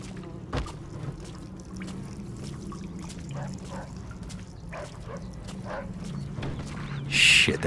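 Faint, scattered barks from a dog in the video game Mafia II: Definitive Edition, set near a sewer, heard over a low ambient hum with a brief louder burst near the end.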